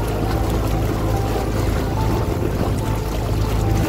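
A tourist boat cruising the Pichavaram mangrove backwaters near Chidambaram gives a steady, close engine drone mixed with churning water, continuous and fairly loud throughout with no talk.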